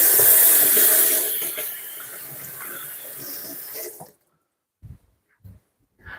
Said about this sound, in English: let me wash my hands out